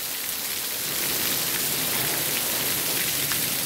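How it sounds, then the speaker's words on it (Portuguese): Heavy rain pours steadily in Serra do Mel in Brazil's Northeast, a dense, close, unbroken hiss of drops hitting the ground, with no voices. "Já tem 20 minutos de chuva aqui na Serra do Mel."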